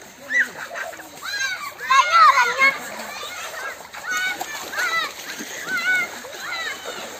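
Repeated water splashes as children pour water over an elephant, mixed with their excited chatter and shouts, close and lively, with bursts of splashing coming in uneven waves.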